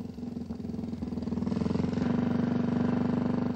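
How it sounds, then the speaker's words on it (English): A BMW R2 motorbike with a horizontally opposed twin engine and shaft drive runs at a steady, throbbing idle that rises slightly, its even pulsing beat close and moderately loud, with no talk over it. "The R2 motorbike continued the BMW pattern of horizontally opposed twin engines and shaft drive."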